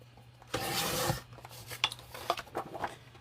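A blade slices paper for a minibook in one close, loud rasping stroke lasting about half a second, followed by softer scattered rustles and clicks as the paper is handled.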